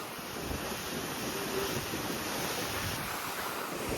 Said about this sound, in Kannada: ನೋಡ್ರಿ ಏನ್ ಕೆಟ್ಟ ಹರಿಯತೈತಿ ಅಂದ್ರ ಫುಲ್ ಹರಿಯತೈತಿ.